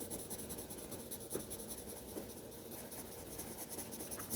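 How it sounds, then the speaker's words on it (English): A colored pencil scratches across paper in short, steady back-and-forth strokes, adding a second layer of color to a drawing of chips; the soft rasp is close and quiet with no talking. "right now I'm just adding a second layer to the chips and I'm turning my pencil."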